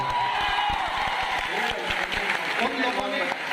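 Steady applause from a seated audience at a Teacher's Day celebration meetup, a dense continuous patter of clapping hands with a voice speaking over it.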